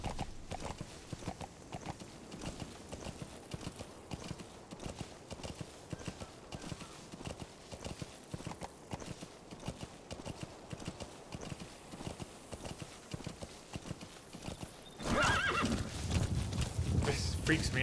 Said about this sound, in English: Freaks me out how quickly D-Horse accelerates.